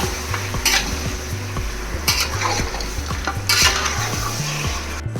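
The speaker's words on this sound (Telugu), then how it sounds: "ఇప్పుడైతే మొత్తం ఒకసారి కలిపేసుకుందాము." Chicken and fried onions in a hot pan, stirred with a utensil that scrapes and clacks against the metal in a steady repeated rhythm over a continuous close, loud sizzle.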